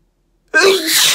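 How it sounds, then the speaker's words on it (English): A single sharp human sneeze bursts out close and loud after a brief silence, with no talk around it. "I'm gonna sneeze again."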